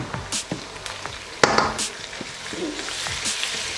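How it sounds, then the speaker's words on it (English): Ginger and garlic frying in a pan for a chicken and spinach curry: a soft, crackling sizzle carries on throughout, broken by a few light clinks and taps from a utensil, with no one speaking. "We just want to cook out the garlic and the ginger a little."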